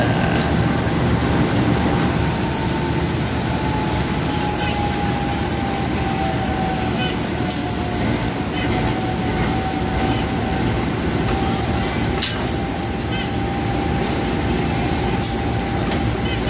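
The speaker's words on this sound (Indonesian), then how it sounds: "Nampaknya ini adalah lokomotif dinas kereta Matarmaja untuk rangkaiannya." A Matarmaja train locomotive shunting backwards at a station, a steady loud rumble with a thin whine gliding across and occasional sharp clanks over about sixteen seconds, no speech.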